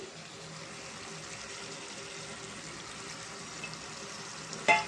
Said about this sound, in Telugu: చికెన్ కొంచెం ఫ్రై అయింది కదండి